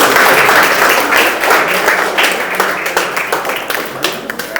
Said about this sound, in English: Can we have claps, please?